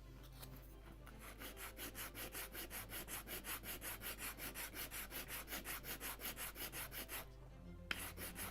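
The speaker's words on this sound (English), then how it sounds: "I will sand it." Wooden part of a Model Shipways Mayflower (1620) ship model kit at 1:76 scale being sanded by hand, a steady rhythmic back-and-forth rasp of even strokes, close and alone, pausing briefly near the end.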